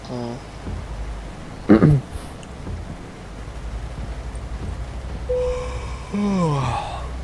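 A person yawns in a long, drawn-out voiced breath that glides downward near the end, heard over a low steady hum during a truck-driving simulator game session; a short breathy burst comes earlier.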